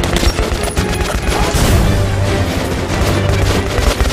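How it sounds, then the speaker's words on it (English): Rapid, loud machine-gun fire in the video game Metro: Last Night, a dense continuous burst of shots with heavy low booms running through the whole stretch. "What was the point of that machine gun again?"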